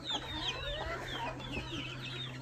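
Hen and a small chick together in a backyard coop, soft overlapping clucks and high thin peeps in a continuous busy chatter over a low steady hum, fairly close.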